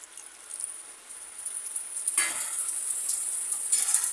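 Chili fish sauce with a little added water bubbles in a pan, a soft hissing simmer with a couple of louder bursts of sizzling and stirring, close and steady, without talk.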